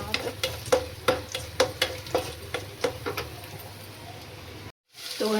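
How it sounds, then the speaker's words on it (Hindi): Boiled soybeans fry in a hot tadka, with repeated scraping stirs and a soft sizzle at a steady rhythm, close to the microphone, before a short gap and the frying resumes. "उबले हुए पानी से निकाल के तड़के में फ्राई कर दिया। अब इनको भूनूंगी।"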